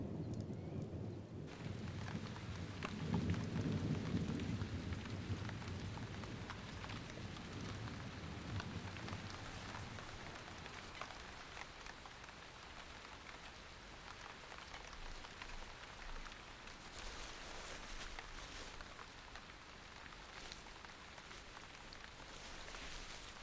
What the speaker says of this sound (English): most afternoons are punctuated by the sudden release of gathering storms